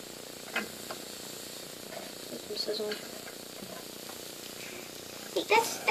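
TV dinner food tossed into a hot pan, a low steady sizzle and hiss with a louder burst near the end, heard under brief speech.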